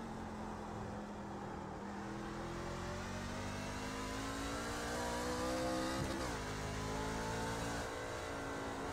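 A C Class race car engine in the iRacing simulator at Watkins Glen, droning steadily at high revs with pitch climbing and briefly dipping at a gear shift, loud and continuous with no talking.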